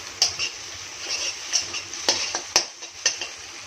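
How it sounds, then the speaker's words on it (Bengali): Two eggs frying in white oil in a pan at home, a faint steady sizzle under sharp intermittent clinks and scrapes of a utensil against the pan, spaced roughly every half second, with no talking. "এবার আমি দুটো যে ডিম ভেজে নেব"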